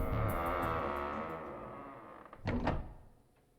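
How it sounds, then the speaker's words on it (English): A heavy sliding door shuts in the video game 999 with a short, loud rumbling thud, which rises over a steady droning game background. "The door slid heavily shut."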